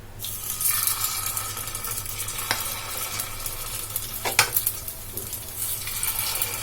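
Paniyaram batter made from bread is poured little by little into an oiled kuzhi paniyaram pan, giving a steady close sizzle with soft stirring and scraping noises and a couple of brief sharper clinks.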